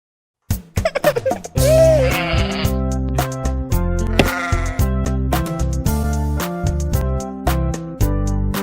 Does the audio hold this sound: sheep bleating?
yes